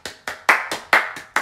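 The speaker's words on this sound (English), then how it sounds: "Another round of applause." Seven loud, evenly spaced claps ring out close by after a children's nursery rhyme at a baby music session, each a sharp burst fading quickly before the next.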